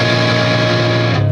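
An electric guitar with distortion, strings five through one strummed and left ringing as one loud, sustained, buzzing chord that fills the whole moment with no voices.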